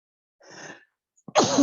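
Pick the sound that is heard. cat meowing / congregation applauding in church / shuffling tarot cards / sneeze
sneeze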